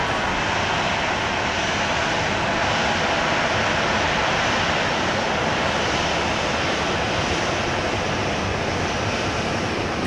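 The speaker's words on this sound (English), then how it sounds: "This is flight 3895 from Denver, a MAX 8." A Boeing 737 MAX 8 arriving from Denver at Dallas Love Field makes a steady, loud broadband engine roar that holds without a break throughout.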